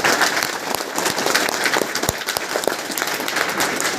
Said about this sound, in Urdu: زور سے تالیاں بجاؤ یہاں پر